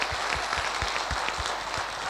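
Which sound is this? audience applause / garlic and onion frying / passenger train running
audience applause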